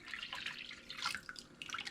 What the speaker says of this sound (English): Let's go ahead and add our cooled water